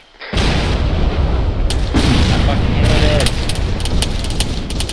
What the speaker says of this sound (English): Incoming rocket artillery.